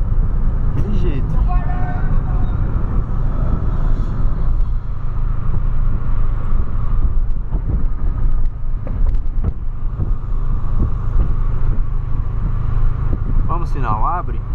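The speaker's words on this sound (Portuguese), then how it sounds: "Descendo o carro, deixando o carro fluir nas banguelas." A Polo coasts downhill in neutral, with a low, steady road rumble and wind noise inside the cabin. People talk over it throughout.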